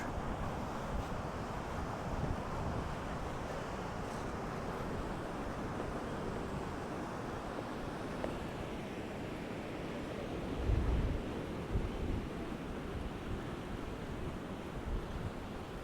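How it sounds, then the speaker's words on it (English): Big sea waves and heavy surf roll in at Costa Teguise under a hazy sky, a faint, steady roar blended with wind buffeting the microphone, with no voices. "Still got big waves, lots of surf."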